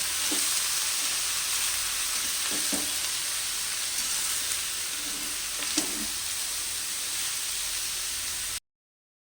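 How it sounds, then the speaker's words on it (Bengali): Potatoes sizzle steadily in a frying pan while being stirred, a constant close hiss with a few soft scraping knocks from the spoon, no voices. "আলুটা দিয়ে এবার নাড়তে হবে এরকম করে নাড়তে হবে ভালো করে"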